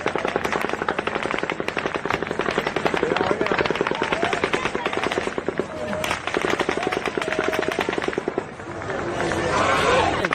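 Sustained bursts of automatic gunfire from the Las Vegas mass shooting rattle in rapid, dense volleys, distant and echoing, with a short lull before firing resumes and shouting voices underneath.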